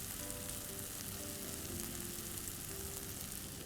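Oil sizzling in a pan as marinated fish is lightly fried for doi maach, a continuous, even crackle and hiss that stays steady and fairly soft from start to finish.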